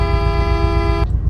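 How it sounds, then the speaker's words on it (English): Car horn from a vehicle in the Roblox game Greenville, one steady harmonic blare held for about a second and then cut off, over a low rumbling engine idle. "Here's the horn test."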